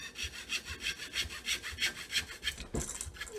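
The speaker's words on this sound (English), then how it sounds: "You want to let the saw blade do most of the work." A hand saw cuts through wood for homemade crossbow bolts, its steady back-and-forth strokes rasping about three times a second, close and clear with no talking.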